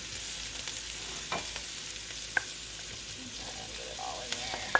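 Shrimp and vegetables fry in butter in a pan, giving a steady close sizzle broken by a few sharp clinks and scrapes of stirring, with no talking.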